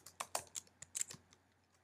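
A computer keyboard typing code in Xcode, heard as a short burst of close, crisp key clicks in an irregular rhythm with a louder tap at the end, and no voice.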